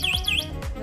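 An electric bike's anti-theft alarm blares nearby, a loud warbling electronic siren sweeping up and down in rapid repeated cycles.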